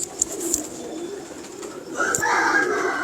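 A pigeon of a traditional fancy breed coos in a loft or yard, soft repeated low calls under steady background noise, with brighter chirps near the end.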